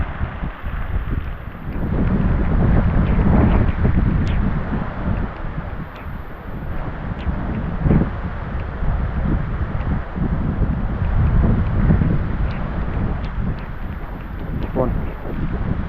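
Strong wind gusting across an open farm field during a rainstorm, a loud, rough rumble buffeting the microphone in surges, with voices faintly underneath.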